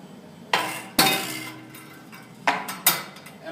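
An Izod impact tester's pendulum hammer swings and breaks a test specimen, giving a few sharp metallic clanks and clinks spread over a few seconds, close and fairly loud, with no talking.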